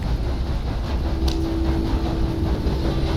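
A train rolls past in Red Dead Redemption 2, a steady loud rumble with a faint sustained tone, heard alone with no voices.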